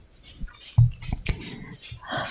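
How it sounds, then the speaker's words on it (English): Light, irregular clicks of dog claws tap on a hard floor, drawing closer, with a soft whine and a brief huff mixed in. "that's my dog clicking coming this way"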